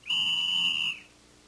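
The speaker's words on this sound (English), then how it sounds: "On the ice, when the referee blew his whistle" A single sharp, sustained referee's whistle blast on hockey ice lasting about a second, clear and close, then fading to quiet.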